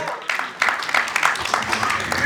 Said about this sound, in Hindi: एक बार जानवी के लिए जोरदार ताली आ जाएगा प्लीज